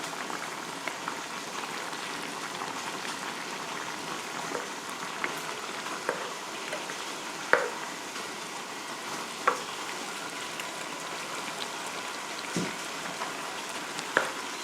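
Vegetables and potatoes sizzle and bubble steadily in a pan with olive oil, a dense continuous frying hiss dotted with occasional sharp pops and crackles.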